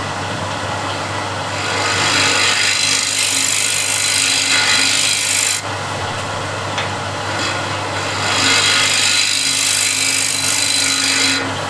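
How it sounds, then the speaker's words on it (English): A negative rake scraper cuts a wooden bowl on a spinning lathe, a loud, rough hiss that swells in two long passes over the machine's steady motor hum. "Or I can use negative rake scraper."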